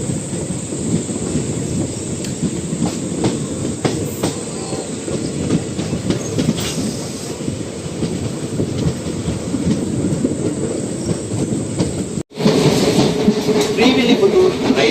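The Silambu Express train rolls steadily along the rails between Rajapalayam and Sivakasi, with a continuous low rumble and rattling clatter, loud and close, with a brief dropout near the end.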